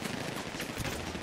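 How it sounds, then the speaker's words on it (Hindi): Gunfire from a gun in GTA 5, a dense, loud, continuous burst of rapid shots and blasts filling the whole moment, with no talk. "अभी फटाफट से चलाते हैं इस गन को"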